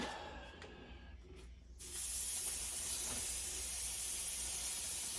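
Lacquer paint sprays onto a Grayboe rifle stock in a loud, steady, close hiss that starts abruptly after a quiet lead-in and holds without break to the end.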